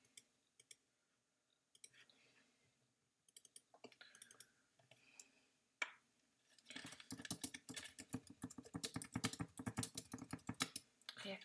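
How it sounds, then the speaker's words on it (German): Keys clatter on a computer keyboard as a chemistry lesson is typed, with short bursts of taps separated by pauses, then a long, dense run of quick, close clicking. "das schreibe ich jetzt wieder mit der Tastatur."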